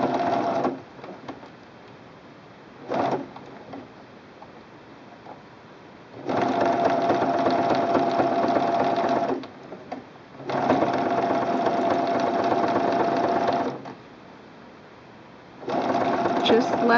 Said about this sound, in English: Place the fabric underneath, just under the fold line. And start to stitch.